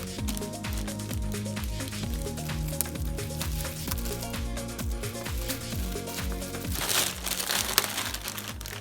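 Plastic and paper packaging crinkling steadily as a new iRobot Roomba 670/675 robot vacuum is unwrapped, a close, continuous rustle with brief louder crunches near the end.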